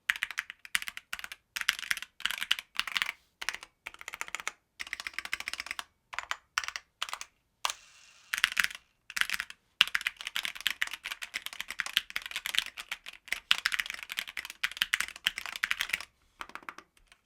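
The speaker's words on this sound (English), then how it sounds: "what you just heard is this keyboard right out of the box" A gaming keyboard straight out of the box, with the owner's keycaps fitted and unlubed switches, is typed on in quick bursts of crisp, close clacks, with short pauses and one longer gap, with no speech.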